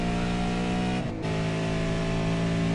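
A V8 Supercar races down the long back straight at Okayama, its engine a loud, steady harmonic roar from close by that briefly dips and shifts pitch around a gear change, then settles back to full throttle.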